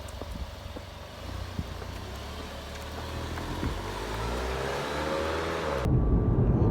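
A VW Golf GTI Mk7 on D2 coilovers drives along with a low engine drone and road rumble building gradually, with faint thumps from the suspension, then an abrupt shift in cabin sound near the end; nobody speaks.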